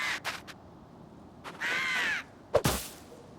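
A bird caws in the Moomintroll game: a few short sharp calls at the start, then a longer drawn-out caw, followed by another quick harsh burst, close and clear against a quiet background.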